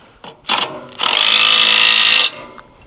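Impact wrench tightening a 3/4 inch nut on a Wolfe Ridge log splitter: a short burst, a pause, then a loud sustained rattling hammer lasting just over a second before stopping abruptly, close by.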